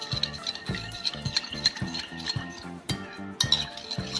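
A spoon clinks and scrapes against a bowl while homemade carrot gel is mixed, giving a quick irregular rhythm of close metallic taps and scrapes with a few sharper knocks.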